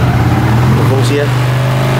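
A Suzuki Shogun SP 125 motorcycle engine runs loud and close with the choke on, a steady low throbbing drone throughout, with faint voices in the background.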